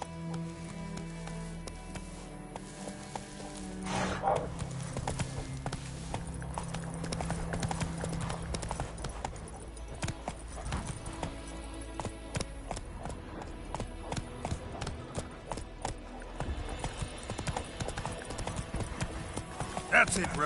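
Roach, the horse in the video game The Witcher 3, gallops with quick, rhythmic hoofbeats that thud steadily over game music and ambience, clear and close.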